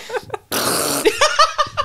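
A loud, close fart-like blurt lasting about half a second, preceded and followed by short voiced sputters and giggly noises that may be a person imitating the sound.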